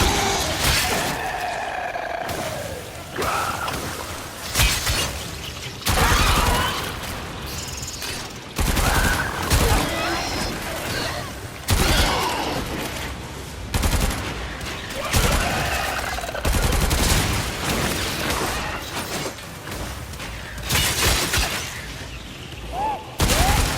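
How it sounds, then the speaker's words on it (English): Sustained weapon fire against hostiles in Warframe, with heavy repeated bursts, booms and shattering impacts across a loud, busy firefight and occasional voices in the mix. "Destroy it with weapon fire."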